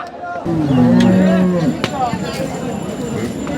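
A cow at a busy Eid cattle market, where bulls are brought for sale, lets out one loud, close, drawn-out moo, followed by crowd murmur and people talking.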